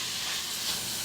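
Peppers and onions sizzle in a hot pan for black bean enchiladas, a steady, loud, close frying hiss with no break and no voices.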